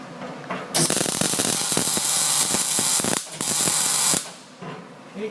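An electric arc welder runs a bead on 6mm steel, a loud crackling, sizzling hiss that starts abruptly, holds steady with brief dips and cuts off near the end, close up with no talking.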